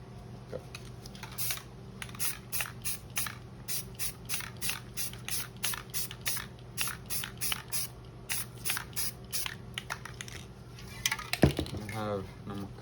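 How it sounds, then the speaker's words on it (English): Spray paint can hissing out a brown coat in a long run of short, even bursts, each a sharp close hiss separated by brief pauses, with a faint rattle and a voice at the very end. "I'm gonna get a new cap of this just to be sure it's a good spray"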